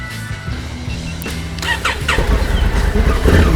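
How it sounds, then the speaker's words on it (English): A cold adventure motorcycle engine cranks and catches on the first try, settling into a loud, rough, close idle with rapid rumbling pulses. "The bike was very cold, but it got started in the first touch."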